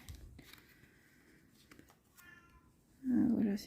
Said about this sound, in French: c'est mon chat qui s'y met maintenant